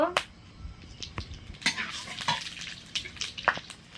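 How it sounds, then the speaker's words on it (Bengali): Whole garam masala and cumin seeds fry in a wok, with a low crackling sizzle broken by scattered clinks and scrapes of a utensil against the pan, moderately quiet and close. "এবার আমি মশলাটা কষে নেব কড়াইতে দেব গোটা গরম মশলা"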